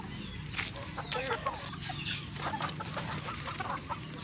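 Young stag gamecocks on a farm cluck and chatter in quick, irregular bursts, several birds calling close by at modest volume with no voices over them.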